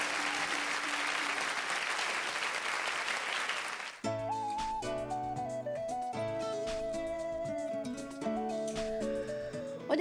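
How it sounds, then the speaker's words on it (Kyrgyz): An audience claps after a Kyrgyz song performance, a dense burst of applause for about four seconds that then gives way to instrumental music with clear melodic notes. "азаматсыз кол чабуулар сизге."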